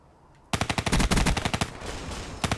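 A Kuda submachine gun fires in a video game: loud rapid automatic bursts break out suddenly, rattle densely for over a second, pause briefly and then resume, with no voices over them.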